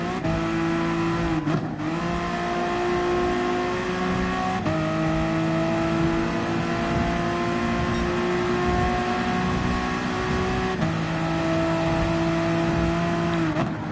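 A Honda NSX Gr.4 race car engine in Gran Turismo Sport, a loud, steady high-pitched drone held at speed, with brief dips at gear changes, the sound of racing on the Tokyo Expressway and no talking.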